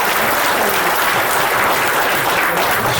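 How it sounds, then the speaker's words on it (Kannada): An audience at a film teaser launch claps in dense, loud, sustained applause that fills the room evenly from start to finish. "ಒಂದು ದೊಡ್ಡ ಚಪ್ಪಾಳೆ ಬರಬೇಕು"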